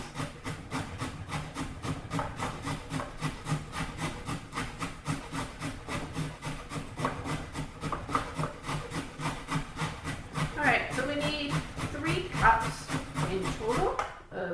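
A carrot is rubbed against a small grater in steady, rhythmic rasping strokes, close by and continuous throughout, with a faint voice or background sound underneath.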